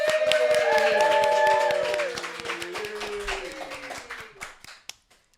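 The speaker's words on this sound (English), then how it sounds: "can we have a big round of applause" An audience at a children's anti-bullying event applauds, clapping ringing out over a fading musical tone, then thinning to scattered individual claps and a last few isolated hits before silence.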